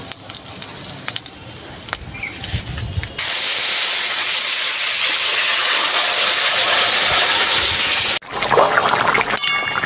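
Gravy poured onto fried gurjaoli fish in a pan erupts into a loud, steady sizzle lasting about five seconds, bracketed by quieter kitchen clatter before and after.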